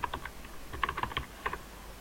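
Light keystrokes on a computer keyboard while a repair ticket is entered, in scattered short runs with brief gaps, fairly soft and near, with no talking.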